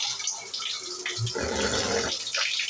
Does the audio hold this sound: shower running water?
yes